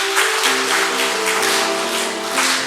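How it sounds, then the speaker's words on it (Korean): A church congregation claps warmly to welcome a visitor during a worship service. The applause is a dense, continuous patter, with sustained instrumental tones running underneath. "우리 한번 뜨거운 박수로 환영해 드리겠습니다."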